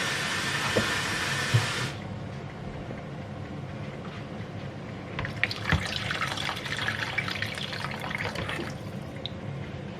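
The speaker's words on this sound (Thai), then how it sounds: "เสร็จแล้วใส่น้ำเปล่าลงไปต้มเลยทีนี้" Plain water gushes into a cooking pot for a Thai mixed vegetable soup, loud and splashy for about two seconds, then gives way to quieter sloshing and clattering close by.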